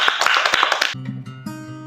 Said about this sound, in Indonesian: kita beri tepuk tangan buat kita semua.